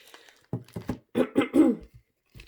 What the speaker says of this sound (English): I'm going to have to keep clearing my throat